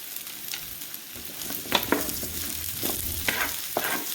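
Eggplant fries in oil in a pan for a Filipino ginisang talong stir fry, a close, crackling sizzle with several scraping stirs and clatters, no talking.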